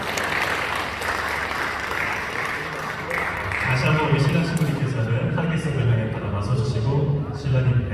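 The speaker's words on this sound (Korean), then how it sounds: "박수 부탁드립니다." Wedding guests applaud at a ceremony, steady dense clapping throughout with crowd murmur, swelling louder in the second half as music or voices rise beneath it.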